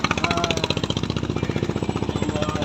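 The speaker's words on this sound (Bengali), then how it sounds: "এই যে এই বোটটা একদম কাছের থেকে গেছে" A motor boat engine chugs very close by, a loud, rapid and even throbbing pulse that holds steady throughout.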